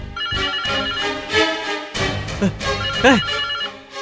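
A mobile phone's ringtone plays in a Tamil television serial scene, a repeating melodic ring sounding fairly loud and close, with a voice also heard over it.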